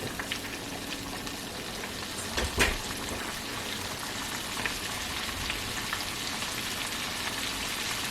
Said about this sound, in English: Just place the shrimps in the pan